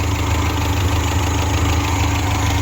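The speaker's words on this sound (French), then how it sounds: "peut-être un petit bruit de culbuteur" A Peugeot XN1T 96 hp engine running on 100% ethanol idles steadily and close, with a faint rhythmic ticking from the rocker arms under the constant engine hum.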